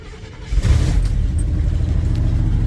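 A bagged Chevrolet C30 dually truck's engine runs steadily, loud and close, with a low rumbling drone that swells into a rev after a brief quieter start, then holds a constant churning roar.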